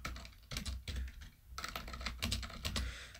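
Fast, uneven typing on a computer keyboard while coding a Python chat application, the key clicks close and clear with brief pauses between bursts and no talking.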